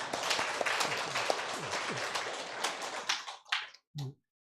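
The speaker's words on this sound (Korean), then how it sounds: "수고하셨다고 박수 한번 해드리겠습니다" Church congregation clapping during a Sunday worship service to welcome a visiting pastor, a brisk burst of many hands that thins out to a few scattered claps and stops abruptly.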